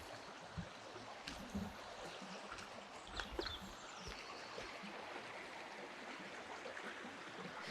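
A river at a property boundary in central Portugal flows with a soft, steady wash, faint and constant, with a few small splashes or clicks scattered through it.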